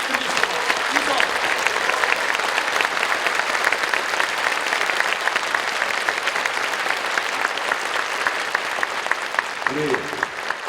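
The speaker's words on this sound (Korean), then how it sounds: "우리 귀한 12분을 향해서 뜨거운 감사의 박수를 부탁드리겠습니다" A church congregation applauds at a 50th-anniversary dedication thanksgiving service for Yongin First Church's new Glory Center, a dense, steady wash of clapping from many hands that carries on loudly for about ten seconds, with a brief voice near the end.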